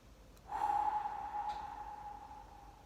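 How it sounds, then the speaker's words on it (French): A single long, slow exhale during a guided fire-visualization meditation, soft and close, drawn out for about two seconds after a sharp onset, with no talk over it. "On expire"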